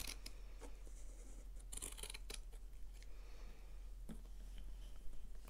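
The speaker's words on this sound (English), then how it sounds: "I am just going to carefully cut down the middle." Scissors snipping through a wound bundle of yarn at close range, a few quiet crisp cuts over a faint hum.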